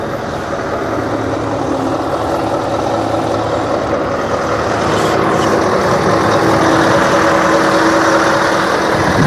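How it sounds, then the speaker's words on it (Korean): A big V8 truck engine idles loudly nearby with a deep, continuous throbbing rumble that stays even throughout. "V 엔진들은 이렇게 막 왕왕왕 거린답니다"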